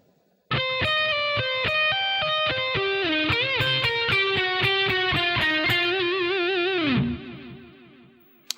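A slow blues lick on distorted electric guitar, played alone as a steady run of sustained notes with bends and vibrato, ending in a downward slide before the ringing dies away.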